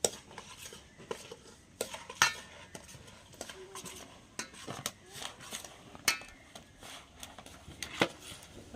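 Kneading flour dough mixed with salt and boiling water in a bowl by hand: repeated scraping, clinking and soft slapping sounds close by, with no talking.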